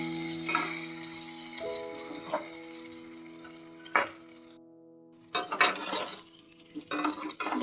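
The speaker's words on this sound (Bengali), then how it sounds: "এটাকে ভালো মতন বন্ধুরা ভেজে নিতে হবে।" Vegetables frying in a pan for a spicy masala sabzi, a soft sizzle broken by intermittent clatter and scraping bursts of stirring, with quiet gaps between.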